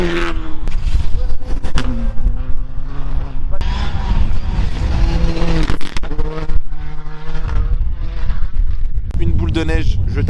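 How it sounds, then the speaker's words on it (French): A rally reconnaissance car drives past on snowy roads at Rally Sweden, its engine loud and revving with shifting pitch over several seconds amid crowd noise and outdoor rumble. "La voiture que vous venez de voir passer, c'est ce qu'on appelle la reco en fait en rallye"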